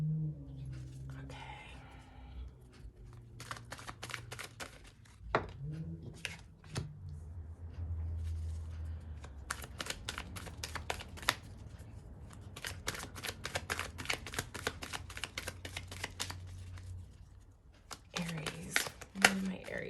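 Tarot cards shuffled in hand, a series of soft rapid riffling bursts with crisp flicks, repeating across the stretch beneath a quiet voice talking.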